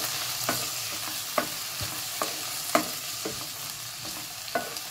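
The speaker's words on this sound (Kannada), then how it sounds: "ಆಲೂಗೆಡ್ಡೆ, ಮೊಳಕೆ ಕಾಳು, ಟೊಮೊಟೊ ಹಾಕಿ ಅದನ್ನು ಇದಕ್ಕೆ ಆ್ಯಡ್ ಮಾಡಿ ಸ್ವಲ್ಪ ಮಟ್ಟಿಗೆ ಫ್ರೈ ಮಾಡ್ಕೊಳ್ಳಿ" Sprouted beans, potato and tomato sizzle and fry in a pan for sambar, with a steady hiss broken by a series of soft scraping stirs and utensil taps, close and alone without voices.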